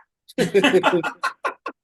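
A voice imitates the Aflac duck, squawking a nasal, quacking rendition of the brand name, followed by a few short clipped honking bursts, close and loud.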